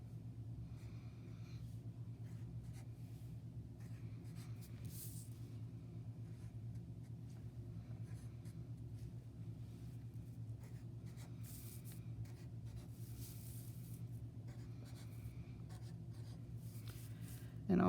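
Pen or marker drawing on paper for a folk art fox picture, a faint continuous scratchy scribbling over a steady low hum, close and soft with no talking.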